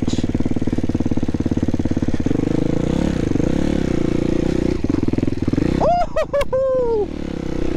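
Dirt bike on a trail: the motorcycle engine chugs steadily close by, its pitch shifting as the rider works the clutch, then a voice whoops loudly near the end over the motor.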